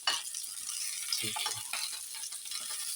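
Pelmeni fry in a pan for breakfast, giving a steady crackling sizzle with scattered pops and a few scraping stirs, close and moderately quiet, with no talking.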